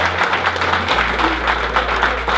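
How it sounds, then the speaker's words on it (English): Loud applause from a summit audience welcoming a speaker to the stage, a steady dense roar of clapping lasting a couple of seconds over a constant low hum from the venue's sound system. "I want to get a loud round of applause for Brandon Carter."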